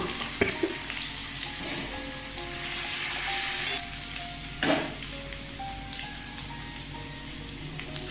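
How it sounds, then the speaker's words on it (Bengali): Crushed garlic frying in oil as a tempering for a drumstick and potato curry, a continuous soft sizzle with two sharp clanks of a utensil against the pan. "আমি এতে রসুনটা থেতো করে নিয়েছি থেতো করে ফোড়ন দিয়েছি"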